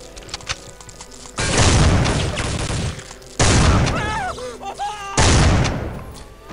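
Gunfire in the video game Soldier of Fortune II: Double Helix comes in three loud, dense bursts of rapid shots with booming impacts, separated by short quieter gaps where a voice briefly talks.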